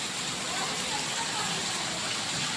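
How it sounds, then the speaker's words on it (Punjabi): Heavy rain falling outdoors, a dense continuous hiss of drops on surfaces, steady and moderately loud with no voices. "ਲਓ ਜੀ ਮੇਰੇ ਵੀਰੋ ਬਾਹਰ ਬਹੁਤ ਬਾਰਿਸ਼ ਹੋ ਰਹੀ ਆ"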